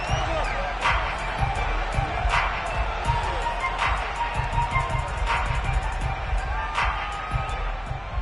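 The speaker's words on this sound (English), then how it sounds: "Plenty of shouts from this crowd as they watch the replay." Stadium crowd at a football game shouting and cheering while watching a replay, a dense continuous roar with repeated swells of louder shouts.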